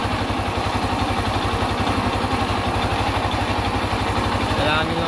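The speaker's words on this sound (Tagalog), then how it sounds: "Start ko lang guys. Ayan, one click lang to eh." A motorcycle fitted with a 24mm D-type carburetor idles close by after a one-click start, a fast, even, loud pulsing thrum, with someone talking over it.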